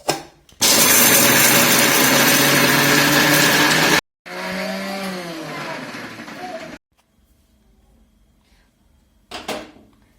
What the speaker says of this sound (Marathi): तर आता हा मसाला एकदम बारीक करून घ्यायचा